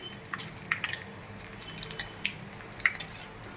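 Whole spices, bay leaf and cardamom among them, crackle in hot oil for tempering while mutton is cooked, giving scattered sharp pops and faint sizzling at close range with no talk.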